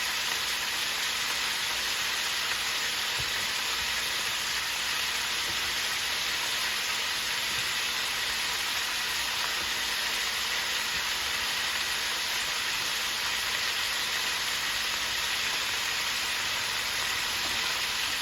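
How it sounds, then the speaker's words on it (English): Chopped onions sizzle steadily in a hot frying pan with oil, a constant bright hiss that holds close and even throughout with no talking, as part of a Chinese-style pork spare ribs dish. "Now we are going to add our onions"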